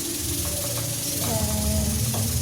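A pressure cooker with potatoes inside hisses loudly and without a break, a dense, steady rush of steam with faint tonal whistles running through it and a voice talking over it.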